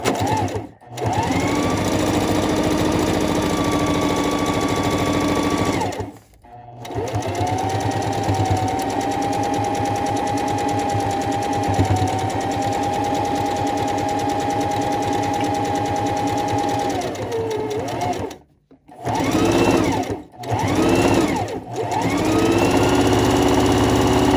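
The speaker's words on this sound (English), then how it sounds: "Now I'm just going to turn it around and stitch down the other side." A domestic sewing machine rated at 1100 stitches per minute stitches down the side of a reusable fabric gift bag, a loud, close, rapid mechanical whir in long runs with a few brief stops and restarts.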